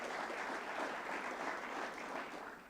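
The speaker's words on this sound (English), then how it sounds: "I would like to ask a hand of applause for him also." An audience at the Green Aruba 2015 conference breaks into warm applause, a quiet but continuous patter of many hands that fades slightly toward the end.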